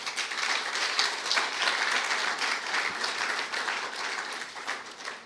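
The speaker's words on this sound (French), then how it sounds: "j'aimerais bien qu'on l'applaudisse très fort." Steady, dense applause from an audience at the Trophée Gnon Nan ceremony honouring Ludovic, a continuous wash of many hands clapping at even loudness that tapers slightly at the end.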